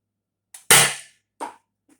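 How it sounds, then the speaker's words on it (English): An Adventure Force Deuce Pro toy blaster fires a few sharp, close, cap-gun-like pops in quick succession, each cracking out of silence, the last one faint. "Again, I'll fire 3 shots without it and 3 shots with it."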